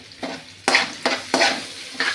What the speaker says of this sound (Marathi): त्यावर टाकल्यानंतर आपण बटाट्याची भाजी हलवण्याचं आणि कढीपत्ता टाकण्याचं आहे